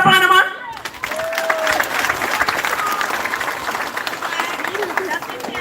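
Graduation audience applause at the STETHS 2023 ceremony, a dense, steady roar of many hands with crowd noise. A brief voice is heard at the start before the clapping fills the room.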